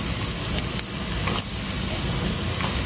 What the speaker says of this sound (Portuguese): Aqui eu já vou colocar o alho